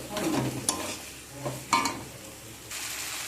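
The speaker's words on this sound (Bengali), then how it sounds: "সয়াবিন দিয়ে ভালো করে নাড়াচাড়া করে নেব মশলার সাথে ভালো করে কষিয়ে নেব" Soaked soybean chunks are stir-fried with spices in a pan, giving a soft sizzle beneath a few scraping spatula strokes and clinks over about three seconds.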